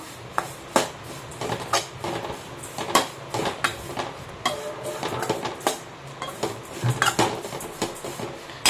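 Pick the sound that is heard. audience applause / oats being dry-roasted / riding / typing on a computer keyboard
oats being dry-roasted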